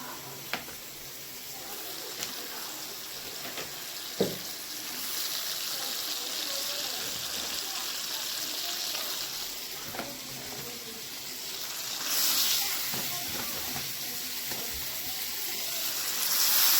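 Chicken meat sizzles steadily in a pan of fried spice masala, a continuous moderate hiss with occasional spits and pops, rising slightly near the end, with no talk.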